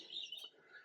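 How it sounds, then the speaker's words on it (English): Native garden birds chirp and tweet at feeding time, a brief burst of high, fairly close calls overlapping one another with no pauses. "they're all beautiful native birds"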